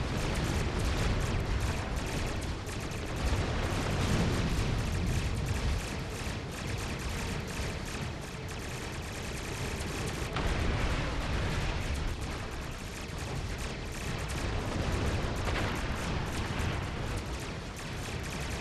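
Starship weapons fire in the Star Trek Online space game, with a dense, continuous barrage of booming blasts and crackling volleys that stays loud and close throughout.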